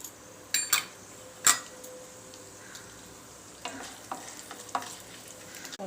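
Mustard seeds and cumin spluttering in hot oil, with a few sharp pops early on over a steady low sizzle, then quieter crackles and scattered clicks through the rest.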